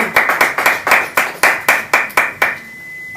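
A church congregation claps in praise for the word of God, with sharp, rhythmic hand claps, about a dozen strong and evenly spaced, loud and close, ending in a brief quiet tone with no cheering voices.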